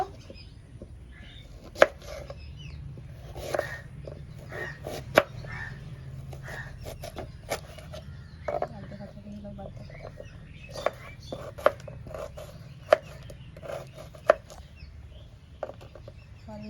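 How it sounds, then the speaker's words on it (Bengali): An onion is chopped with a knife on a board while making Mughlai chicken, giving sharp, irregular knocks, some loud and spaced, others quick and lighter, over a quiet kitchen background. "এবার পেঁয়াজটাকে কেটে নেব।"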